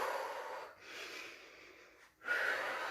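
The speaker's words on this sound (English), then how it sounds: "Inhale and exhale." An instructor breathing audibly during an exercise class: a long, airy inhale, a pause, then a strong breathy exhale, close and alone.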